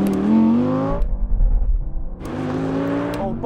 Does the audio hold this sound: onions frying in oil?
no